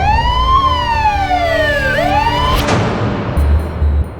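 A wailing emergency siren, fitting an ambulance called to a crime scene, sweeps up and down loudly and close, its pitch dipping at mid-clip before breaking into broad noise near the end, with no talk.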